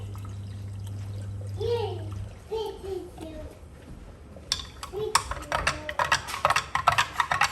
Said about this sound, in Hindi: ठंडा पानी डालते हैं और इसमें भी डाल लेते हैं।